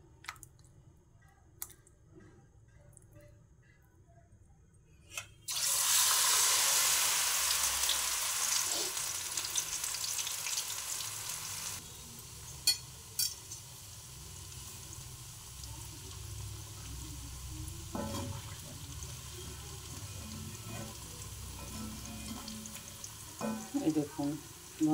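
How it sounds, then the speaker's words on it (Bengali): Fresh coriander leaves dropped into hot oil for coriander chop burst into a loud, steady sizzle after a quiet start, then settle into a softer frying crackle with occasional clinks and stirring. "তেল গরম হয়ে গেছে, এবার আমি ধনে পাতাটা ওর মধ্যে ছেড়ে দেবো।"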